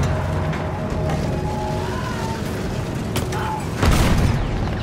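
Field gun fire in the World War I shooter Battlefield 1, set inside a loud, dense battle din where rumbling booms blend into constant noise, with a heavier blast near the end and shouted voices in the mix.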